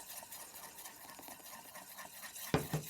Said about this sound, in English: I'm going to switch to a whisk.